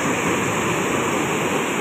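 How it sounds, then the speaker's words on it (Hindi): River water rushes past in a steady, broadband roar, loud and close, unbroken throughout with no speech. "तो ये देखो यहाँ से पानी जा रहा है"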